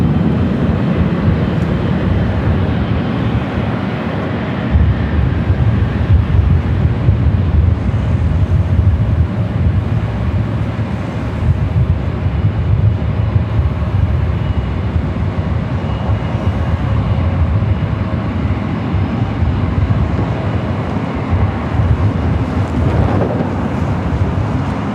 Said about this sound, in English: Singapore flight 11, the 777 at 300ER in the Star Alliance